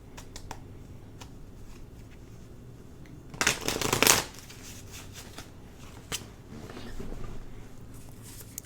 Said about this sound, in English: Let me shuffle this here on my legs just because I don't want it to be too loud.